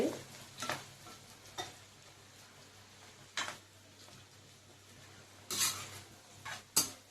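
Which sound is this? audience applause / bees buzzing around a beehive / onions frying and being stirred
onions frying and being stirred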